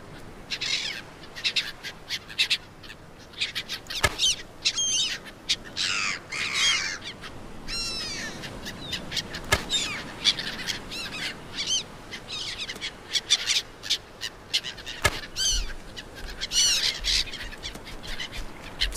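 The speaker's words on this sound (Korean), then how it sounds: "여기 특산물 갈매기인데 저 갈매기 별로 안 좋아" Seagull calls in the survival video game Stranded Deep, with repeated sharp cries over a steady bed of ambient island background noise.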